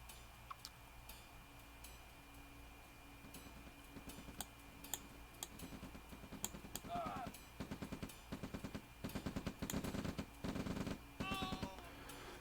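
Rifle fire rattles through a real-time strategy video game battle between riflemen units. Rapid bursts of small-arms shots crackle at moderate volume and grow denser toward the end, mixed with other game sounds under ongoing commentary.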